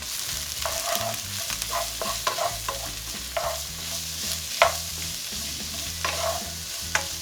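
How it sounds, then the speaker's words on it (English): Pepper and garlic stir-fry in hot oil, a steady sizzle broken by repeated scraping and clattering as the pan is stirred, close and loud with no speech. "Heat that up, and we're gonna throw in our pepper and garlic."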